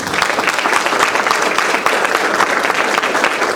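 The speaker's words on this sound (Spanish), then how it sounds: "un aplauso para todos los uruguayos por estos 35 años" A large audience at a celebration of an adoption program's 35th anniversary breaks into loud, sustained applause, an even, thick roar of clapping with a faint crowd murmur running through it.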